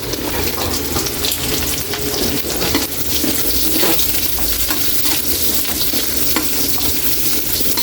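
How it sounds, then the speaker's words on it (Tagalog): Onion and taro sauté in a hot pan for pakbet, a Filipino vegetable dish. A steady, close sizzle runs throughout with light scraping and stirring clatter, and no one speaks. "Gisahin lang natin yan ng konti, saka natin ilagay yung gulay natin."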